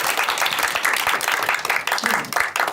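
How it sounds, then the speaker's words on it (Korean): A seminar audience at a Korean political forum claps to welcome a speaker, dense close applause of many hands, loud and continuous throughout. "여러분 큰 박수로 환영해 주시기 바랍니다"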